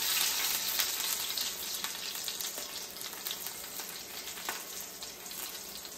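Peppers fry in a hot pan, giving a steady, loud, close sizzle with faint stirring crackles throughout and no voices.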